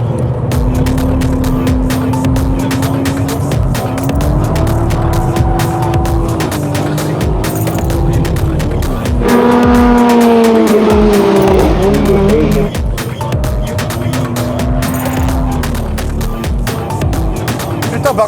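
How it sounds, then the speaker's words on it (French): A car driven hard at a big rally-style meet in Japan with one wheel spinning, loud sustained engine roar rising and falling with throttle and tire squeal, close and continuous. "j'ai toujours une roue qui patine"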